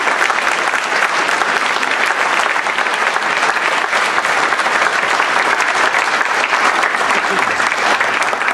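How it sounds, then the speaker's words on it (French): A crowd applauds the candidates of a municipal electoral list at a new-year greeting event, dense sustained clapping that stays loud and even throughout. "je vous demande de les applaudir toutes et tous."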